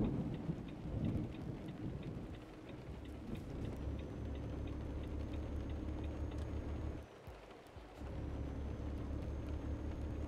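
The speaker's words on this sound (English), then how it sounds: "This thunderstorm is like following me" Thunderstorm in the Euro Truck Simulator driving game: steady rain hiss with deep rumbling thunder rolling throughout, a brief dip near the end, and low vehicle engine drone underneath, no voices.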